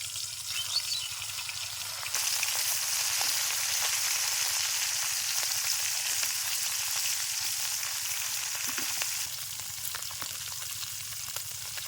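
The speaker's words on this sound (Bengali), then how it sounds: "তেল গরম হয়েছে, মাছ ছেড়ে দেবো" Fish rubbed with turmeric and salt frying in hot oil, a bright continuous sizzle that swells louder after a couple of seconds and stays steady, close with no talk.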